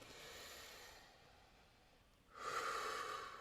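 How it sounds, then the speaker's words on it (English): Deep meditative breathing, a slow soft inhale and exhale followed by a louder, rushing breath near the end, close and alone with no talk. "I'll close my eyes, do some deep breathing."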